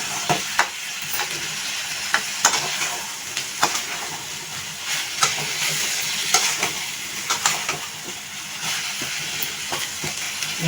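Boiled potato pieces and prawns being stirred together in a frying pan for a prawn cauliflower gravy, with a steady sizzle and frequent sharp scrapes and taps of the spoon against the pan, no talking.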